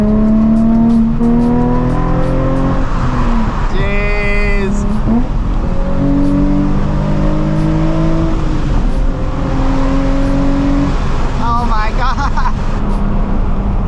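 A Nissan 350Z HR engine drones steadily from inside the car on a Southern California drive, its pitch rising and falling as it shifts through gears, with someone talking over the loud cabin hum.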